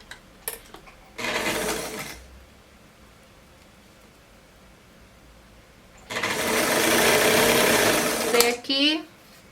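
A sewing machine stitches a seam on a godet dress in two close bursts, a short run of about a second and then a longer run of over two seconds, separated by quiet.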